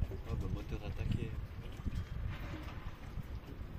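A motorboat engine drones steadily on the water during a boat trip among sailboat nomads, its low rumble mixed with wind buffeting the microphone and people chatting over it.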